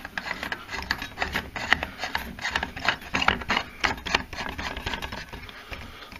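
A toy sun is screwed into place in a model universe, a dense run of small ratcheting, grinding plastic clicks close by and without a break.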